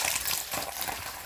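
Dried chili, chepa shutki dried fish, onion and garlic are washed together in water, giving a steady, close splashing and sloshing for a brief moment.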